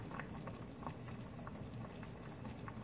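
Patties frying in two tablespoons of olive oil in a pan, a faint, steady bubbling sizzle with small crackling pops throughout.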